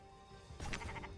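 A sheep bleats in a strategy video game, a short, wavering cry rising out of quiet background game audio, fairly close and moderately loud.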